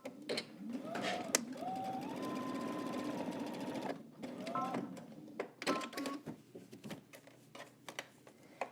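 A sewing machine runs in several short bursts, whirring steadily as it stitches a dress casing closed, with pauses and light handling clicks between runs.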